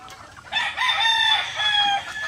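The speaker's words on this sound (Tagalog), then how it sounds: "yung maraming alagang manok" Native Tagalog chickens kept as backyard poultry, with a rooster crowing loudly and close over steady clucking from the flock, the crow holding for well over a second.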